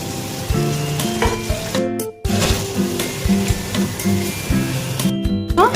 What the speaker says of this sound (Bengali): তার মধ্যে এই ভাজা পটলগুলি, তুলে রাখা ভাজা পটলগুলি দিয়ে দিলাম